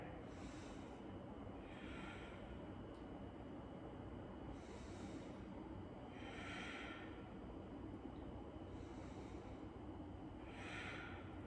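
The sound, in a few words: slow breathing during a yoga pose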